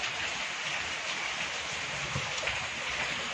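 Rain falls steadily after a windstorm that broke trees and tin roofing at a house, a soft continuous hiss of drops at moderate distance with no other distinct sounds.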